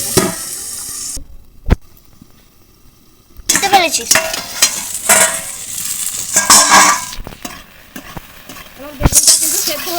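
Eggplant slices coated in salt and turmeric fry uncovered in hot oil, a steady loud sizzle broken by a brief quiet gap and stirring scrapes, with occasional clinks of a utensil against the pan.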